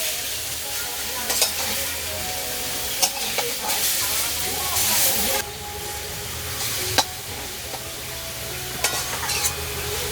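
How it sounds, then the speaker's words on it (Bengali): Bottle gourd sizzling and frying in a pan for a village-style sweet, with a steady hiss and repeated scraping, clattering strokes of a spatula as it is stirred. "আমি লাউটাকে ততক্ষণ নাড়বো যতক্ষণ এর কাঁচা গন্ধ না যায়"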